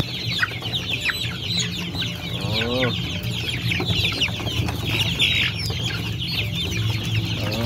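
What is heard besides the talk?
chickens clucking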